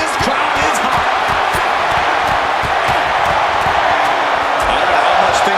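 A loud, roaring wrestling arena crowd in WWE 2K26 cheers and whoops continuously, dense and steady throughout, with thumps and strikes punctuating it and commentary voices running over the top.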